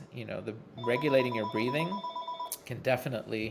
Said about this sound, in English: It's a phone. It's an old-fashioned phone.